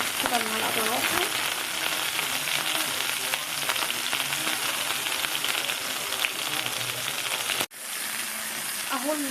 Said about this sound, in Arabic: اهو السجق بتاعنا شوحناه.